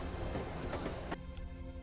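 Steady rumbling train clatter from a train ride in the stealth spy game No One Lives Forever, a continuous rolling rattle with a brief brighter clank near the end, then a quieter hum.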